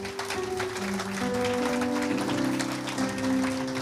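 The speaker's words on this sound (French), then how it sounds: "Est-ce qu'on peut les applaudir?" Church audience applauding, a dense wash of clapping with sustained musical tones underneath, fairly loud and continuous for a few seconds.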